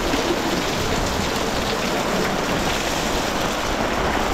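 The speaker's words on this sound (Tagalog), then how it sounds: "medyo umuhupa na rin yung lakas ng ulan." Steady rain drumming on a van awning on a hillside, a dense, constant hiss and patter with no pauses, loud and close throughout.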